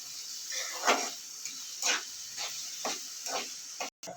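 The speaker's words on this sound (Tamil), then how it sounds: "நம்ம வெங்காயம் வதக்கிக்கலாம்." Onions sautéing in a pan for fish gravy, a soft steady sizzle with faint stirring scrapes at a regular rhythm, fairly quiet and close.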